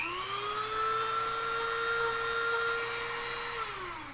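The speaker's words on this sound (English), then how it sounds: "I might need to do some sanding down here. Dremel, where'd you go?" Dremel rotary tool whining at a steady high pitch while sanding armor helm material, loud and close, then winding down near the end.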